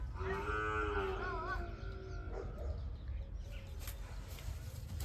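Cows moo loudly at a farm, one long wavering moo up close in the first seconds, followed by quieter farmyard sounds and a bit of distant talk.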